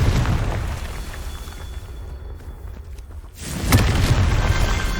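A Confringo blasting spell goes off in Hogwarts Legacy: a low, rumbling texture thins out, then a sudden loud, booming blast erupts and rolls on to the end.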